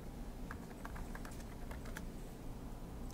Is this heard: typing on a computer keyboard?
yes